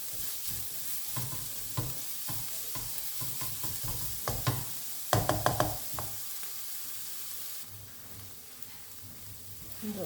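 Browning onions with spice mix sizzle in a pan for Kerala-style chicken curry while a spoon scrapes through them in repeated strokes. There is a quick flurry of stirring midway, and the last couple of seconds settle into a quieter fry.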